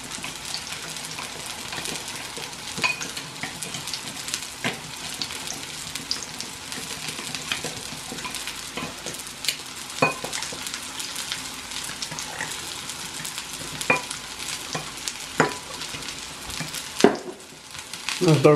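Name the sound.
stirring potato pancake dish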